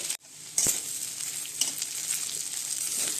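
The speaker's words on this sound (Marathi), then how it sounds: "इडली एक दोन मिनटं परतून घेऊया" Leftover idli pieces sauté in a pan with sesame seeds, producing a steady close sizzle, a brief drop at the start and a couple of sharp knocks from stirring.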